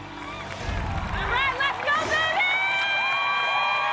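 A crowd at an American Ninja Warrior course cheers and shouts for a competitor, with children's high voices and whoops rising over a busy outdoor din and a voice speaking through it.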